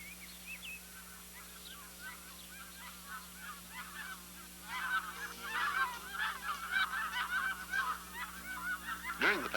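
A flock of Canada geese near the edge of Abernethy, Saskatchewan honk repeatedly, faint and scattered at first, then building into a dense overlapping chorus of calls at moderate distance.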